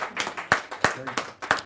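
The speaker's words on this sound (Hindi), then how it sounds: "जोरदार ताली के साथ हम स्वागत करें उनका।" Welcoming claps from an audience at a Hindi kavi sammelan: a few loud, sharp clap bursts land at a steady beat, roughly every third of a second, with a faint voice murmuring underneath.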